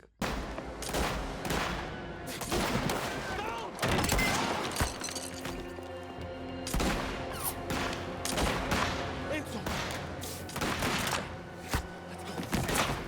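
Gunfight in the video game Mafia: The Old Country, with rapid bursts of gunfire, heavy thuds and shattering impacts repeating over several seconds, loud and close over a music bed.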